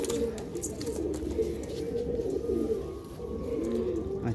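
Continuous low cooing from pigeons at a sale loft, a steady murmuring layer of calls with no clear voices over it, moderately close.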